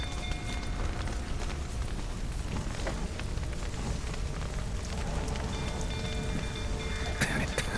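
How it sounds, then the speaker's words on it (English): Steady rain falls in The Witcher 3, a dense, even hiss of drops on surfaces that holds at a constant loudness throughout with no voices. "Looks like rain."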